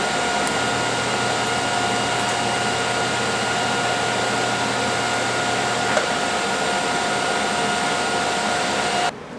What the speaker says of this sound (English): we'll see if we can weld over the garbage that we welded last time